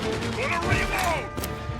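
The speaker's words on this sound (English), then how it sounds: "Gonna reload!" In the Mafia Definitive Edition video game, a gun is reloaded with a quick series of mechanical clicks and clacks during a firefight, amid gunshots and voices.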